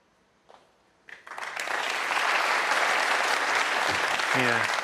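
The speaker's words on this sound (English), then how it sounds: "deserved round of applause for that one" Audience applause breaks out at a snooker match after a well-played safety shot in a Players Championship final, swelling quickly from a few claps into a loud, sustained ovation, with a brief voice near the end.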